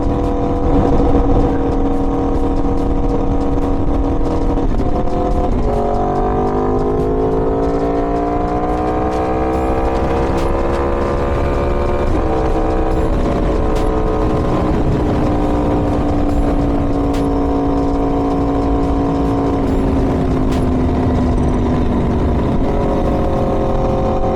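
Aprilia Tuono V4 motorcycle fitted with an LV Corsa carbon exhaust, its engine droning loud and close as it rides, pitch rising through gears and falling again on the road, with a steady rasping growl throughout.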